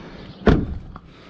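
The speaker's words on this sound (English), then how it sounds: "Let's make sure the door closes." A truck's rear door swings shut with a single solid thud, close and loud, followed by a faint rattle as it settles; a dog's back seat platform is set up inside.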